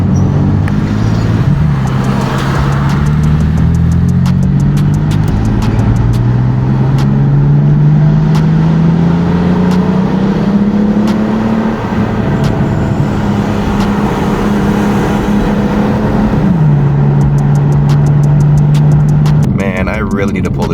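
A BMW driven on the road gives a steady engine drone that climbs smoothly in pitch under acceleration, drops at a gear change, then holds, heard from inside the car.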